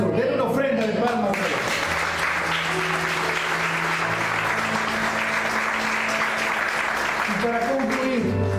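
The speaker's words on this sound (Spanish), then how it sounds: "Den una ofrenda de palmas." A church congregation gives a round of applause during a sermon, steady clapping that fills the space, with talking over it at the start and end.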